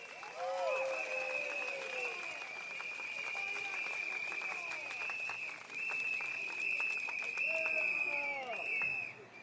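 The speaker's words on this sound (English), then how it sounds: "I want all of you to give a round of applause to yourselves for coming down here tonight" Crowd applause at an outdoor evening election rally in Bukit Panjang, Singapore, held in the rain: a steady roar of clapping and cheering throughout, with a sustained high whistle-like tone and sliding horn-like sounds above it.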